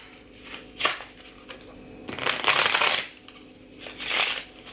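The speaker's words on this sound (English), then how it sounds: "I'm just gonna shuffle a few times, and then I will pick 2 cards" Playing cards are shuffled in three quick riffling bursts, close and crisp, with short pauses between.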